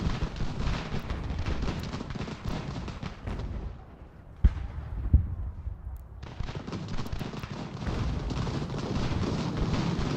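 Heavy artillery volleys from cannon in Ultimate General: American Revolution, loud sustained rolling booms with a brief lull midway, then sharp reports and a renewed dense barrage.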